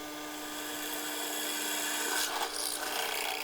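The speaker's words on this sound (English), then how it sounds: "So now for a bit of sped up drilling action." Drilling into thin steel without a pilot hole: a steady high whine with grinding, rasping texture, close and continuous, growing harsher toward the end.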